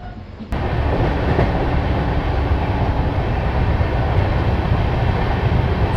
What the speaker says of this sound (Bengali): সকালবেলার নিস্তব্ধতায় অ্যালকো লোকোমোটিভের ধকধক আওয়াজ